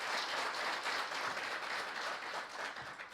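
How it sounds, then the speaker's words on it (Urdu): Audience applause for singer Ustad Rafaqat Ali at the Overseas Pakistanis Global Foundation convention, a steady, dense wash of many hands clapping that holds throughout and thins slightly toward the end. "آپ کے لیے بہت بہت تالیاں"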